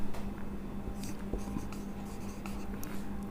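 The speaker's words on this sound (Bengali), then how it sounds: "আরও একটু লিখবো আমি" Pen writing on paper during a chemistry lesson, a quiet run of short scratchy strokes in irregular bursts over a low steady hum, with no talk.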